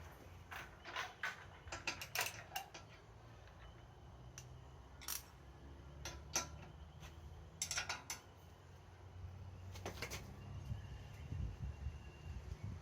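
A socket wrench or spanner with a 17mm or 19mm socket works on the front axle of a Braaap ST250 motorcycle, giving scattered bursts of quiet ratcheting clicks with pauses between them, close but faint, with no talking.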